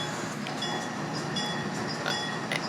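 A CSX RS3L diesel locomotive running in the Trainz railroad simulator, a steady rumbling drone with faint rail clatter and brief higher tones, continuous and fairly close.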